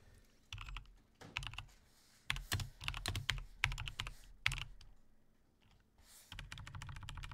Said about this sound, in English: Hang on, I'm typing it.